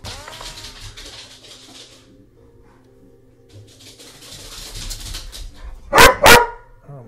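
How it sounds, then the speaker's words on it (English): Dogs bark in the Phoenix Point: Kaos Engines video game, starting with scattered low woofs and ending in two sharp, loud barks close by. "Dogs."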